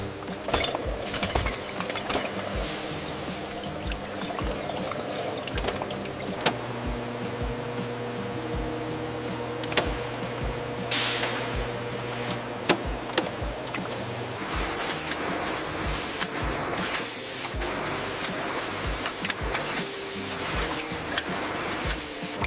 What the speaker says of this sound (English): nozzles enter the bottles and fill the red sauce with millimeter precision without spilling a drop